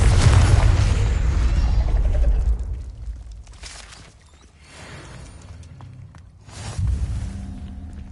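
A Confringo fire spell detonates in the Hogwarts Legacy video game, a loud booming blast that fades out before a second explosive burst hits near the end.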